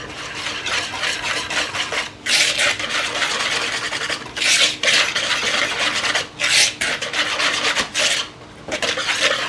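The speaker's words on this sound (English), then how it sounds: "and 1/2 teaspoon of your salt. Just mix it all together." Dry ingredients with xanthan gum and salt being mixed in a bowl for keto cinnamon rolls, a steady close scraping and rubbing with brief pauses between strokes.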